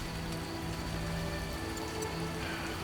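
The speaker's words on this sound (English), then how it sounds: "It's raining again." Steady rain falls in the video game The Witcher: Enhanced Edition, a dense, even patter on surfaces that continues unbroken at moderate volume.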